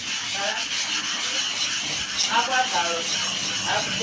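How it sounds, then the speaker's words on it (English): A block rub scraping across the inner surface of a super hard manual sharpening stone, giving close, hissing strokes in an uneven rhythm, with a voice talking faintly underneath. "Now use the block rub to rub again."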